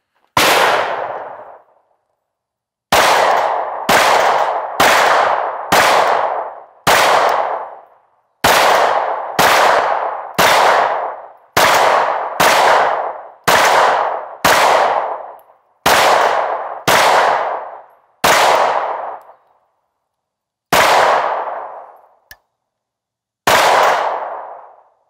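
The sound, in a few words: IWI Masada pistol firing Winchester 124 grain NATO rounds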